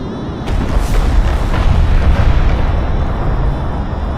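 Cruise missile explosion in Homeworld: Deserts of Kharak, a sudden loud boom that swells into a deep rumbling roar and slowly fades over several seconds, with no voices.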